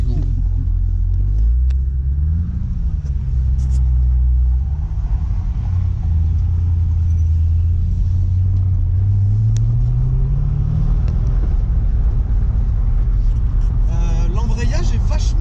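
Corvette sports car engine driving, a steady deep rumble with gentle rises and dips in revs throughout, heard from inside the car.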